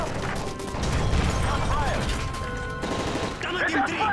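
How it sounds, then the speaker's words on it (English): Rapid bursts of automatic gunfire in Call of Duty: Modern Warfare 3 aboard a plane, with mechanical rattling and crashing effects, loud and close, while voices shout over the fighting. "That's gunfire!"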